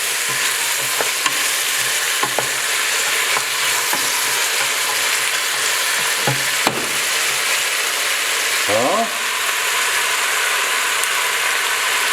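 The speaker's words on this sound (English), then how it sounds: "the pepperoni. I stir that as well, a little bit." Bell peppers for ratatouille sizzle steadily in a hot pan, with a spoon scraping and stirring through them in a few brief strokes over the constant frying hiss.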